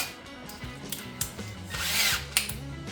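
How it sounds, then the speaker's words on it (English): A countersink center drill bores a hole on a workbench for an RC durability upgrade part, giving a close, steady whir with shifting motor pitch, bite changes and a brief surge near the end, with no talk. "we're going to very carefully use this countersink drill, center drill"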